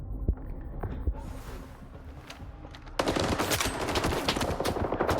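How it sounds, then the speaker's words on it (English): Gunfire in the video game S.T.A.L.K.E.R. 2: Heart of Chornobyl, with sharp, repeated shots and rapid bursts. The shooting grows denser and louder in the second half over a constant game background. "You heard those headshots, right?"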